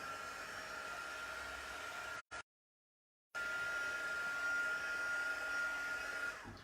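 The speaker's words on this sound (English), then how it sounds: "I'm just going to give it a quick blast with my heat gun" A steady, loud whooshing blast of hot air from a heat gun drying paint on a wooden tray cuts off briefly into silence, then resumes with a high whine.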